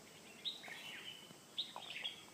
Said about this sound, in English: You can hear the birds chirping all the time.